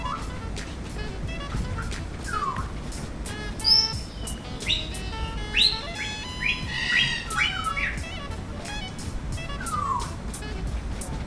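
Birds squawk and chirp in repeated sharp calls over a steady background hum, likely an aviary outing in Hong Kong, with brief faint voices between calls.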